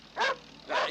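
A dog barks twice in quick succession, two short close yelps separated by a brief pause, with no speech over them.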